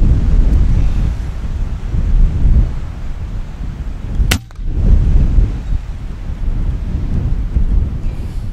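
Strong wind buffets the microphone outdoors among rocks during a ground squirrel hunt, a loud, continuous low rumble with a brief dip and a sharp click midway.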